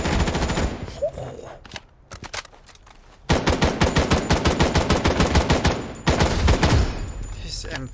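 Rapid M4 automatic fire in the video game Project: BloodStrike comes in loud sustained bursts with a brief lull in between, alongside other gunshots and some game noise.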